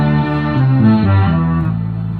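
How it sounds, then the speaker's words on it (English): Bass guitar played through an Electro-Harmonix Mel9 set to its orchestra effect, a few sustained low notes with rich string-like overtones changing pitch in steps, close and loud with no talking. "So what you're hearing there is an effect called orchestra."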